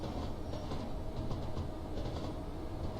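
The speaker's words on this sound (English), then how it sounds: "very nice train going across the top there" A passing train in Train Simulator 2016 on the South London Network, a steady low rumble with rhythmic clatter of wheels, moderately distant and without voices.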